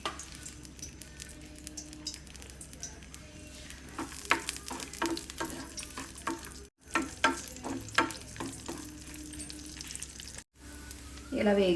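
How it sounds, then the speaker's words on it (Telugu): Cashews and raisins frying in ghee in a kadai, a soft steady sizzle with a run of quick scraping stirs in the middle, two brief silent gaps, and a short louder burst at the end. "కడాయి పెట్టి నెయ్యి వేసుకుని అందులో జీడిపప్పు, కిస్మిస్ బాగా వేగించుకుని దోరగా వేగించుకుని"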